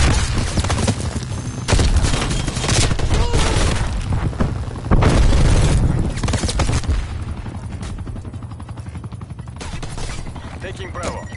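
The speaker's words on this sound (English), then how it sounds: "Flashbang going up." A flashbang grenade goes off in a tactical shooter game: loud booming blasts and gunfire fill the mix, a heavy burst lands midway through, and radio-style game voices carry over the din.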